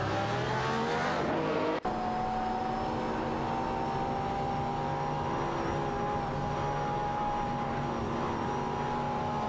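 Race cars, including a Nissan GT-R Nismo and a McLaren, accelerate in an AI racing video game, their engines holding a steady, high-pitched whine with layered harmonics and a brief cut near the start, loud and continuous throughout.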